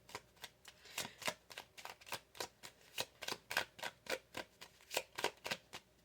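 Tarot cards being shuffled and drawn, a rapid rhythmic series of soft riffling snaps, close and quiet, with no talking.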